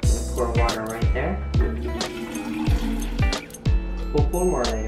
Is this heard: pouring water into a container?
yes